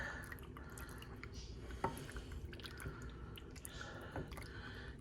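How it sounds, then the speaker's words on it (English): Pasta gets stirred into tomato sauce seasoned with red pepper flakes and black pepper for baked ziti, giving soft wet squishes and slurping drips close up, low and steady with a couple of sharper clicks. "I poured in half of the sauce. Stir it in."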